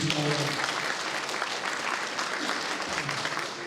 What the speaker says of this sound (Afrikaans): Kan ons in 'n lekker hande klap gee?